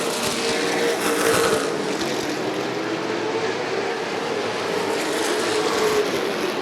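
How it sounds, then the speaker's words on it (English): Late model race cars roar around Rockford Speedway, a sustained loud engine drone with a swelling pass as cars close up and run nose to tail, no voices over it. "Nason and Bilderback closing up on a second place car of Theory"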